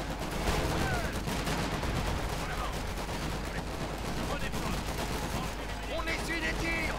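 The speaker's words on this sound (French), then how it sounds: "Une de nos positions de combat est sous des tirs." Dense gunfire from the World War II strategy game Company of Heroes 2, set in the Battle of the Bulge: continuous crackling rifle and machine-gun bursts with distant explosions, a steady rattling barrage with faint voices mixed in.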